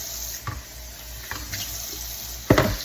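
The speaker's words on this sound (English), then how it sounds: "Fill it up with cold water" Cold water running from a kitchen tap into a sweet potato bowl, a steady close rush broken by a few brief splashes and clunks, with a louder burst of splashing near the end.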